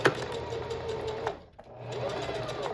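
A sewing machine stitching the center seams of fabric pockets on a packer belt, running in a steady close hum that pauses briefly midway before resuming.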